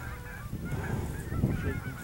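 Geese honking during a goose hunt out in a field, a dense, overlapping chorus of nasal calls from several birds close by, steady throughout.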